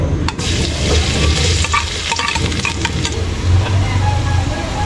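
Garlic and onion sautéing in a hot pan, a loud close sizzle with repeated clattering spatula strokes and scrapes throughout, low rumble underneath.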